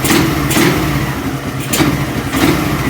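A Suzuki Satria FU motorcycle engine revs lightly in a few short, even throttle blips, loud and close, with a steady idle rumble between them.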